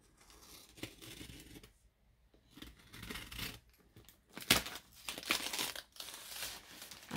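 A gift wrapped in kraft paper being unwrapped, with crinkling, rustling and tearing of stiff paper in irregular bursts and pauses, close and fairly loud, with no talking.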